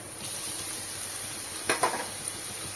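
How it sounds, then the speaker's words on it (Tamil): Grated carrot sautéing in a pan on low flame for carrot pickle, a faint steady sizzle with a couple of brief stirring scrapes near the end. "இப்போ நம்ம துருவி வச்ச கேரட்டை இதில் சேர்த்துக்கலாம்"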